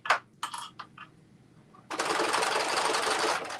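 Domestic sewing machine stitching a zigzag on a fabric top: after a few scattered knocks and taps, the motor starts and runs in an even, close, steady whirr for about two seconds.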